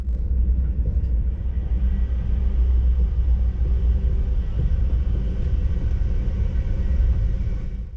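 A sleeper train rumbles steadily out of West London on the way to Cornwall, a loud continuous low roar with faint rattles, heard from inside the carriage with no talking.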